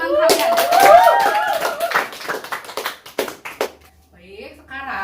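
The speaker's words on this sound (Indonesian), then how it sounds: "Beri tepuk tangan kepada teman kalian." Students clap for classmates in a classroom, a short burst of sharp, close handclaps that thins into scattered taps, with a voice talking over the start and some faint chatter after.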